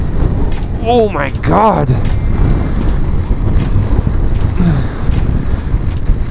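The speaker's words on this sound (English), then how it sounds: "The wind is kind of a problem." Strong gusty wind roars against the microphone at an Icelandic waterfall, a steady loud rumble throughout, with a man's brief exclamations early on.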